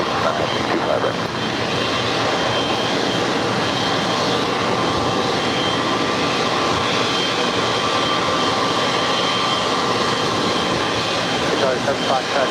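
A United jet airliner takes off from runway 25 right at LAX, its engines making a loud continuous roar that stays steady and unbroken for the whole stretch.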